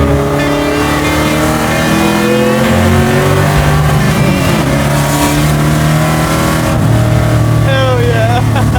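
A garage-built 1972 Plymouth Duster NASCAR-style race car engine revs loud and close, a raw, sustained roar with rising and falling pitch that never drops out across the whole stretch.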